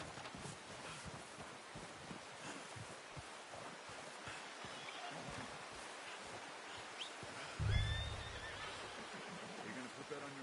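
A horse in the video game Red Dead Redemption 2 whinnies amid outdoor wind and rustling, with a low thump partway through; characters talk intermittently and the whinny stays fairly faint in the mix.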